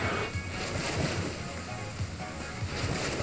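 Ocean waves at sea in Pokémon Ultra Sun and Ultra Moon, a continuous rushing wash of surf and wind with a gentle rolling swell, steady and fairly loud throughout.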